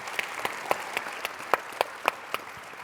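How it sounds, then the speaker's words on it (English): Sparse, quiet applause from a small audience honoring a panel at a regional circular-economy infrastructure event, with distinct individual claps at an uneven rhythm. "Can we have a round of applause for our fantastic panel?"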